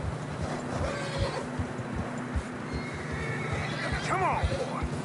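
A horse in the video game Red Dead Redemption 2 whinnies loudly near the end over a steady backdrop of hoof clip-clops on snow, with faint talking underneath.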